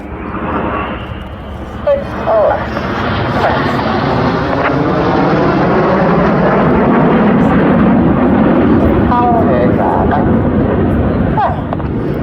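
Roaring jet engines of the Red Arrows formation build into a loud, sustained rumble as the aircraft pass overhead at an air show display, with wind buffeting the microphone and a voice talking over it.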